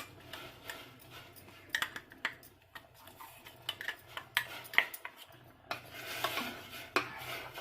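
A spoon scrapes and clinks against a pot of white sorghum being cooked, in repeated irregular strokes, close and fairly quiet, with small pauses between stirs.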